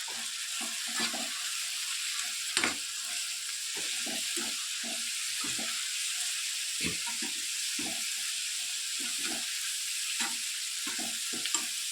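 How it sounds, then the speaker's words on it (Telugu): Coriander leaves frying in a pan over a medium flame, a steady close sizzle with repeated stirring scrapes and soft clatter throughout, no talking. "శుభ్రంగా కడిగి పెట్టుకున్నటువంటి కొత్తిమీర వేసి 2 or 3 మినిట్స్ వరకు బాగా మీడియం ఫ్లేమ్లోనే వేయించాలి"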